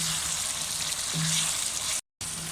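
Garlic and ginger masala frying in a pan gives a loud, continuous sizzle that holds steady throughout, with a brief dropout near the end.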